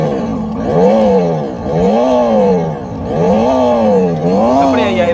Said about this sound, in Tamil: இது எப்படி முறுக்கேக்கில் சவுண்ட் வந்து பாருங்கள்.